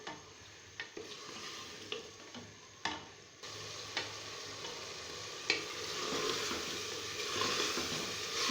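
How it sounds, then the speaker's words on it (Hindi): Mutton frying with ginger-garlic paste and green chillies in a pan for biryani, a steady close sizzle broken by repeated scraping stirs and occasional knocks of the spoon, no voices. "अब मैं इसमें ये अदरक लहसुन का पेस्ट और सब्ज़ मिर्चें ये डाल दूंगी और एक दफ़ा फिर हम इसको अच्छे से भुनेंगे"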